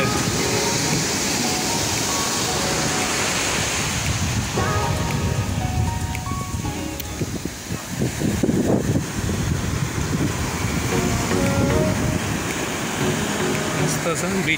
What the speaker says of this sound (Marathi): लाटा घुंगावत आहेत.